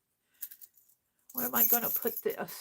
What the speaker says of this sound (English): And a set of keys.